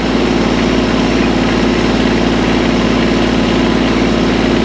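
A diesel tractor engine idles steadily up close, a loud, constant low chugging rumble with no other sounds.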